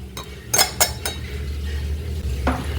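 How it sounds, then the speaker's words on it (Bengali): Ground roasted spice mix being poured into a metal cooking pot: a few sharp metallic clinks and scrapes close by, then a softer rustle and one last clink. "গুঁড়ো করা মশলাটাকে আমি পাত্রের মধ্যে ঢেলে নিচ্ছি।"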